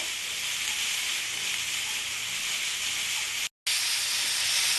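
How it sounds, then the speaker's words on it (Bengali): Tilapia fish pieces with potato and bori frying in hot oil give a loud, steady hiss that fills the whole clip, broken by one short gap near the end. "এটা আমার ভাজা ভাজা হয়ে গেছে"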